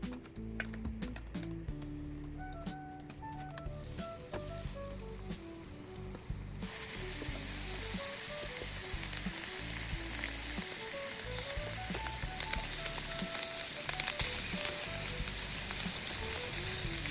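Chicken wings sizzle steadily in an oiled grill pan with olive oil, a continuous crackling hiss that grows louder and denser partway through as more pieces go in, with faint clinks and taps of handling under a background music track.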